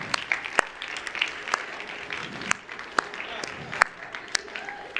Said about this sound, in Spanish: hice así porque otro aplaudió y humanamente cuando alguien aplaude, otro más lo sigue